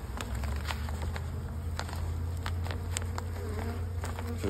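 Honey bees from a small spring cluster hum and buzz steadily inside an opened hive, a close, continuous drone with faint clicks and taps of frames over it.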